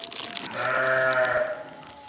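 Sheep at a countryside farm centre give one drawn-out, wavering bleat, fairly close, with faint rustling and crunching in the background.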